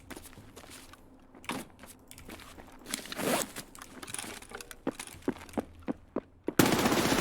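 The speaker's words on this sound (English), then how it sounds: "Rare look at the P90, a very powerful gun." P90 gunfire in Escape From Tarkov, a series of sharp, separate shots and short bursts growing more frequent, ending in a loud sustained burst of noise, with some clattering handling sounds earlier.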